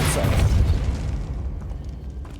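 A Depulso spell cast in Hogwarts Legacy lands as a loud, booming burst at the start, its blast rumbling low before fading over about two seconds.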